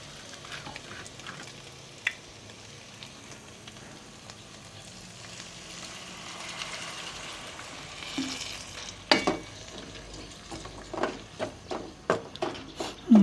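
Dried fish (tuyo) and pork fry in a pan, a steady sizzle with louder stirring clatters and scrapes building toward the end, close and without talk.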